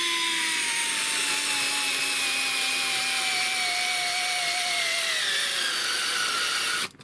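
Fanttik NEX L1 Pro electric screwdriver driving a screw into wood without a pilot hole, a steady close whirring motor whine that slowly drops in pitch as it loads up, then cuts off abruptly near the end.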